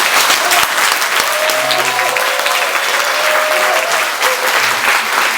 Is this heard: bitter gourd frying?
no